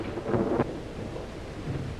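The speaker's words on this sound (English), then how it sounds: "Storm's just as bad as ever, isn't it?" Thunderstorm with rain falling steadily, a low rumble of thunder swelling briefly near the start and then fading into the continuous hiss of rain, with no voices.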